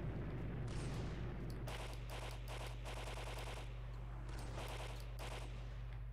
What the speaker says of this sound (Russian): Я слышу какие-то звуки выстрела.